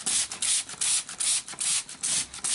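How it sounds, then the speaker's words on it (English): A cheap handheld spray bottle mists carpet moss grown indoors: about eight quick, hissing bursts in an even rhythm, close and fairly loud, with brief pauses between pumps. "And then again with the spray bottle, you really want to keep moss moist."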